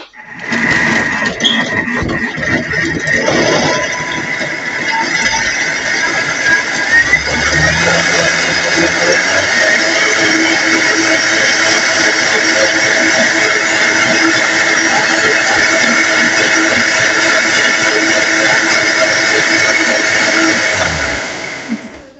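Kitchen blender whirring at speed 8 while mixing a cookie milkshake, a loud, steady motor whine that holds for about twenty seconds after a brief ramp-up, then cuts off.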